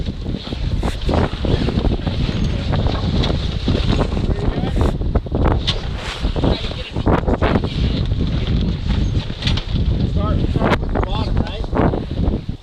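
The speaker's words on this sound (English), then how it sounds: "The wind picked up and we're gonna take down our main." Strong wind roars across a sailboat at sea in heavy swells, a loud, continuous buffeting rush with gusts battering the microphone throughout, and voices are faintly mixed in.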